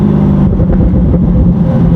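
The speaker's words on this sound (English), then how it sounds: "Listen to this downshift." A Corvette C8 fitted with a titanium cat-back exhaust downshifts, its engine note dropping and flaring in a loud, throaty burble with a brief rev, heard close up without talk.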